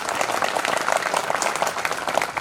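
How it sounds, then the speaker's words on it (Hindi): Audience applause welcoming a poet at a Kavi Sammelan poetry gathering, a brisk, steady patter of many hands clapping at moderate volume. "उनका आप तालियों से स्वागत करें।"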